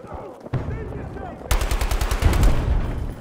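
Battlefield 2042 gunfire from a first-person shooter game: a few scattered shots, then a loud, rapid automatic barrage that hammers on close-up for the rest of the moment amid battle noise.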